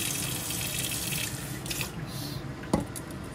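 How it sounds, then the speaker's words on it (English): Hot water pours into a pot of spinach and lentils, a steady hissing trickle of liquid with a sharp splash or clink near the end, close and moderately loud. "add a little hot water"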